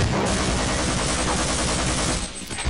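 Rapid SMG fire from the video game Half-Life: Uplink, a dense continuous burst of loud automatic gunshots filling the whole stretch before a brief tail-off.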